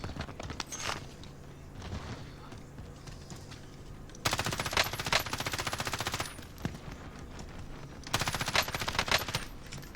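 Rapid automatic gunfire in a shooter video game comes in bursts, with sparse shots first and then two long dense volleys, loud and close.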